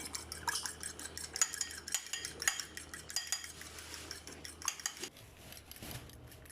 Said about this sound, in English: now we are going to stir it up